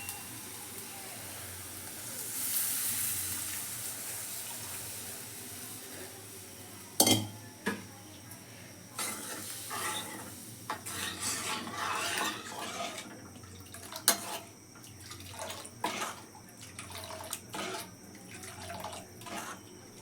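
Flour being stirred into a pot of pithi for Konkani pithi bhaat, a spoon scraping and clinking against the metal pot in irregular bursts over soft background hiss, close and fairly quiet.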